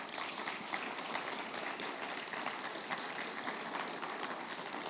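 A church congregation applauds steadily for several seconds, a dense, even wash of clapping from a roomful of worshippers at a Spanish-language service, with no voices standing out above it.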